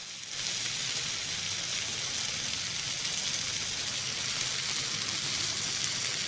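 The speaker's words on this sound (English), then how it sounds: "Let it sit there and simmer its own juices" Leftovers simmer in their own juices on a back burner, a steady close sizzle and bubbling hiss that starts abruptly and continues evenly.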